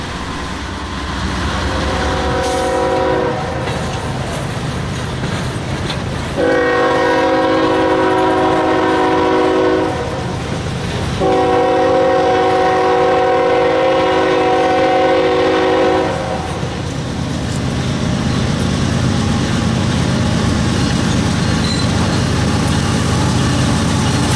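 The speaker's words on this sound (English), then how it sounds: "This Dash 8 and the surprise Norfolk Southern Dash 9 are bringing up train S457, a Waycross and Jacksonville sectional mixed freight." A Dash 8 and a Norfolk Southern Dash 9 diesel locomotive hauling a mixed freight train in South Florida, rumbling loudly with two long, sustained multi-tone horn blasts over the steady engine drone and rolling cars.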